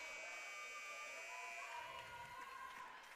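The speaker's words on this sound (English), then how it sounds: "So that's the buzzer for the half" Buzzer sounding to end the first half of a women's college basketball game, a steady sustained electronic tone over faint gym crowd noise.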